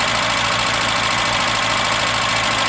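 Engine of a 1981 Datsun 210 running steadily with a dense, even drone and a slight knocking texture, loud and close with no talking.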